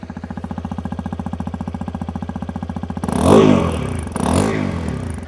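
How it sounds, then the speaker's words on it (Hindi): A Hero Xpulse 210 single-cylinder motorcycle idles with a steady, rapid exhaust pulse, then revs hard twice, the note swelling loud and close before dropping back. "This is a lovely exhaust note."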